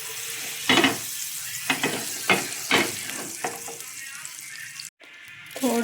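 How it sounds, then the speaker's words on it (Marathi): Oil and butter sizzle in a frying pan for paneer butter masala, a steady close hiss broken by sharp spatters and the scrape of stirring, with a brief drop to near silence before the frying resumes. "परत याच फ्राय पॅन मध्ये 1 टेबलस्पून तेल आणि बटर टाकून घ्यायचं."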